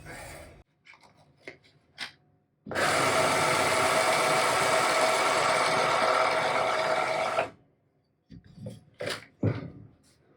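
A 1x30 belt grinder runs edge-leading against a Japanese yanagi sashimi knife to remove edge damage, giving a loud, steady abrasive whine for about five seconds between quieter clicks and handling noises.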